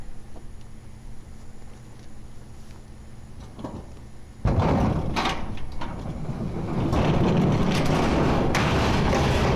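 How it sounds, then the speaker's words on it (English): A shipping container door pops open and swings upward with a sudden loud thud, followed by metallic rattling and a rumbling scrape as it rises, close by and with no speech. "I love that door. You just pop it and it goes straight up."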